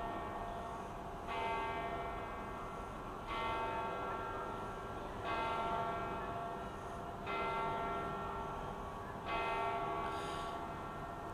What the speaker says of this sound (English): the main chiming bell and the bell that marks the quarter hour